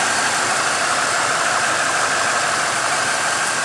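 A 1988 Mercury Grand Marquis with a 5.0 liter, 302 cubic inch EFI V8 idles steadily, a close, even engine drone that holds without a break and with no talking over it.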